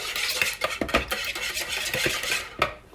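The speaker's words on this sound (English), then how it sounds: "You need 3 eggs. Whisk very well." Three eggs are whisked hard in a bowl, with a rapid, uneven run of close metallic clicks and scrapes against the bowl and no talking.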